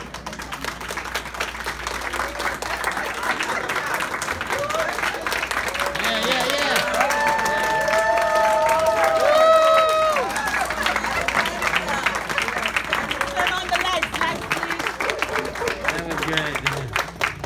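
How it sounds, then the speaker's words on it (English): An audience at a church Mother's Day skit applauds for several seconds, with steady clapping and crowd noise under a voice and some music. "Keep the applause going."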